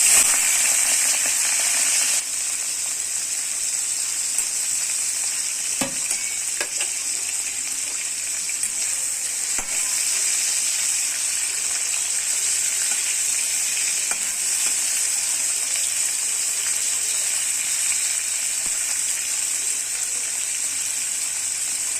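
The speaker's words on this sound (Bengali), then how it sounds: "চিংড়ি মাছগুলো হালকা করে ফ্রাই করবো" Prawns fry in mustard oil in a wok, giving a loud, continuous hiss and sizzle that holds steady from start to finish, with a few faint clicks of stirring and no talk.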